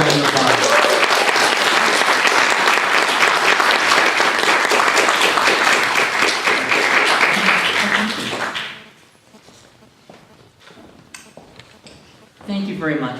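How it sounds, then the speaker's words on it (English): Loud audience applause welcoming a judge at Dublin Pride, a thick wash of clapping lasting about eight seconds before fading into quieter room noise and a speaker's voice. "So can we give her a round of applause?"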